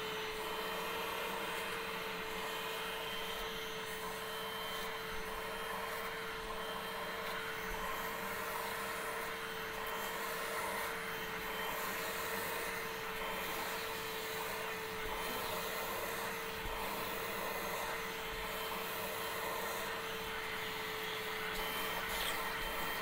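A Bissell Little Green Machine portable carpet cleaner runs with a steady, loud suction whine and motor hum, unbroken for over twenty seconds.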